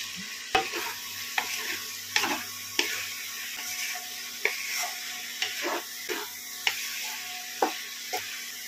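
Chicken stirred in a pan over high heat with dark soy sauce and tomato sauce, no oil, a spoon scraping and tapping the pan in regular strokes every half second or so over a soft sizzle.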